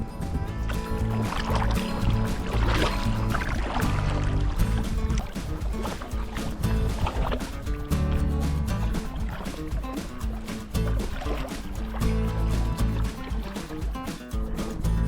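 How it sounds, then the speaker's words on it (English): Kayak paddles stroke through the water of Blackstone Bay in Alaska. Steady, close splashing and dripping continue throughout, with no voices. "we're paddling to this island"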